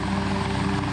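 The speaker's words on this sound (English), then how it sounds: "and dozens of helicopters" Helicopters over a plane crash site in a mountain recovery operation, a steady rotor drone with a rhythmic pulsing thump, continuous and moderately loud, with no voices.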